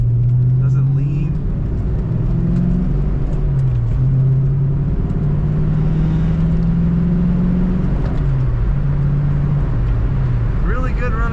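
Steady engine drone of a 1990 Ford Mustang GT convertible accelerating out of a roundabout, heard from inside the car, with the engine note rising and falling through gear changes under continuous low rumble.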